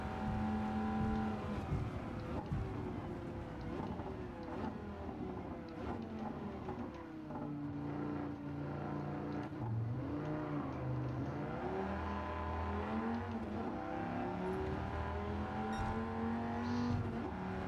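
A Dodge Viper GTS race car tuned to 600pp on the Tokyo Expressway circuit in Gran Turismo 7, its engine droning and rising and falling through gear changes, steady and moderately loud throughout.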